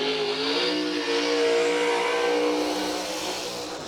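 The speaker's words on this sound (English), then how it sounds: "Yeah, unusually long burnout there for Patton." A drag race car performing an unusually long burnout roars continuously at high revs, loud and steady with a harsh, tearing edge, easing slightly toward the end.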